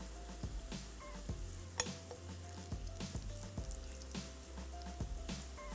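Onions sizzle steadily as they fry in oil, with frequent scraping stirs of a spoon against the pan and occasional small pops, fairly close and unbroken by speech.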